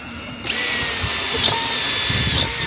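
A power drill drives screws into boards while a large deck is built, whirring loud and steady from about half a second on after a short quieter stretch, close by and with no talk over it.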